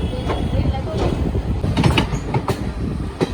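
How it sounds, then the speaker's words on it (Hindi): The Gurumukhi Superfast Express pulls out from platform 5 at Asansol station, its wagons rumbling past close by with rhythmic wheel clacks and a few sharp rail clicks over a steady roar. "डिपार्चर होता हुआ प्लेटफॉर्म नंबर 5 से गुरुमुखी सुपरफास्ट का आसनसोल"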